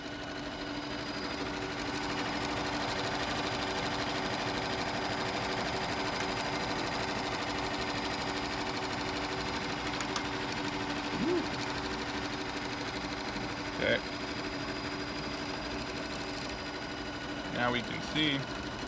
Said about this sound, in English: we can even stitch off with no fabric, and the machine does fine